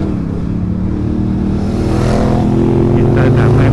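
A Honda CB650R's engine warming up on a ride around Batu Ferringhi, Penang, a steady loud drone that builds gradually with a rider talking over it.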